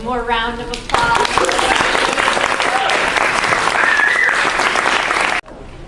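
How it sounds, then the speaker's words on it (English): Loud, dense applause from a sizable audience at a talk, steady and sustained for several seconds before cutting off abruptly. "One more round of applause."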